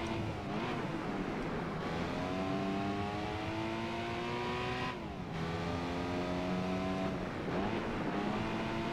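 Small Suzuki Alto Works engine in the racing game Gran Turismo 4, loud and continuous, revving up through gears with rising pitch sweeps, brief drops at shifts, then climbing again, alone without talk.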